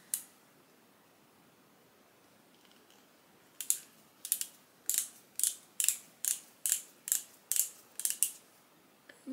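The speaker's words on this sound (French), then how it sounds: "Faut tourner pour faire sortir le produit" A concealer stick is twisted to push the product out, giving about ten crisp ratcheting clicks in a steady rhythm after a quiet stretch. The clicks are close and clear, with no talking.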